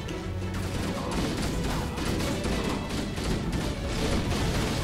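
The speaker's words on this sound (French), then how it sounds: "Oula, une belle explosion là." Dense, continuous rumbling blasts and crackling bursts fill the whole stretch, loud and close, like a sustained explosion with debris in Halo: Combat Evolved on the level The Silent Cartographer, with no voices.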